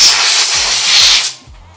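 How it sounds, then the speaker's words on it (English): A short, loud hiss of compressed air blows across a rod bearing during a Mazdaspeed engine build, then cuts off abruptly. "give it some compressed air"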